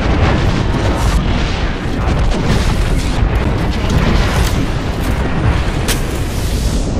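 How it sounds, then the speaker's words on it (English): A grenade blast in the Apex Legends battle royale video game, a loud, dense, sustained boom and rumble with crackling debris filling the whole stretch. "Look out, grenade."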